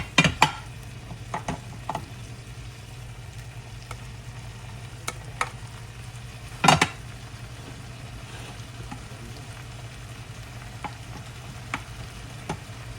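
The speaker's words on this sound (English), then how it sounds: "so we're just going to keep stirring" Chicken fried rice stirred in a hot pan, a steady low sizzle running throughout with a few sharp scraping clicks of the utensil scattered across, close and fairly quiet with no talking.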